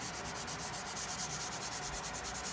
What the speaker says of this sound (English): give it just a little bit more of a concentrated sand here